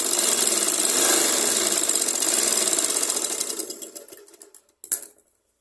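A sewing machine runs steadily while stitching a blouse seam, a continuous close whirring rattle that slows and tapers into a few short bursts before stopping.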